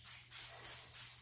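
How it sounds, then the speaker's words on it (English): A mist bottle of hydrating rose water spray with witch hazel spritzes onto a face as one close, continuous airy hiss lasting about a second, after a brief first puff, with no talking. "I'm going to spray my face with this Gin Amber Hydrating Rose Water Spray."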